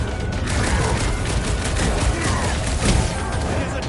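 Rapid gunfire and blasts from the video game Guardians of the Galaxy on PS4, a dense, continuous barrage of shots filling the whole stretch with no break.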